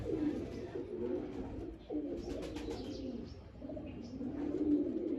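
Several pigeons coo in repeated low, rolling phrases nearby, a continuous soft murmur with brief pauses.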